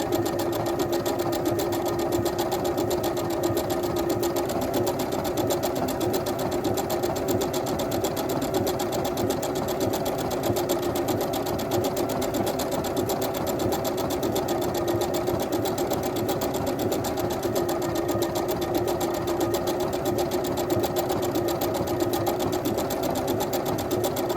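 A sewing machine runs steadily and close up for a long stretch while stitching along the edge of an Orange Pekoe quilt block, its rapid, even needle hum barely changing. Brief speech drifts in now and then.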